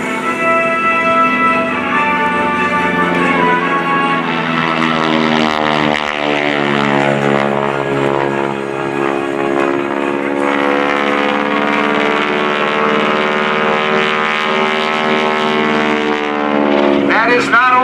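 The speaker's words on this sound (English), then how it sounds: "the sound of a 600 horsepower Pratt & Whitney radial engine" A T-6 Texan's 600-horsepower Pratt & Whitney radial engine roars loudly and steadily at an airshow, its pitch sliding as it passes close by, with a harsh buzzing drone throughout.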